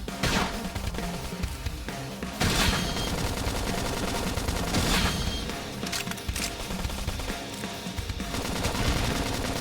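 Battle gunfire from the video game Xenoblade Chronicles X, dense sustained bursts of automatic shots with sharp cracks and booms, loud and continuous throughout with surges of heavier fire.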